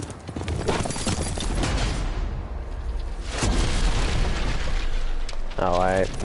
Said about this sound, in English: This is pretty much just the horse ride that they're showing.